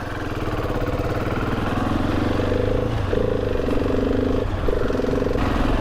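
A 2023 Husqvarna 701 Supermoto motorcycle is ridden with a steady mid-pitched engine drone that rises and falls as it changes speed, alone and fairly close throughout.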